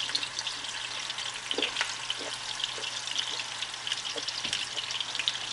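Meatballs sizzle in a pan with a steady, close crackling hiss and scattered spitting pops, fairly quiet, with a faint low hum underneath and no talking.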